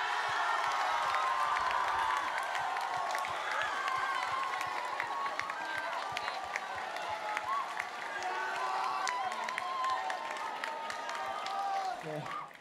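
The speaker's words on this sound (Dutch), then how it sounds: "Mag ik een groot applaus voor Puur Plat." Sustained audience applause and cheering at a televised award finale, a dense continuous wash of many hands with crowd noise and whoops, steady and loud throughout before cutting off at the end.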